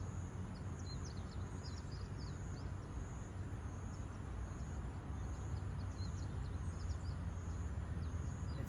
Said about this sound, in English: the sounds of some of the birds and the insects are all here